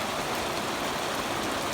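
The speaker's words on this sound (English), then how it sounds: "This rain's a little bit harder than the first one." Rain falls in a steady, even hiss over a hayfield, with no voices or other distinct sounds.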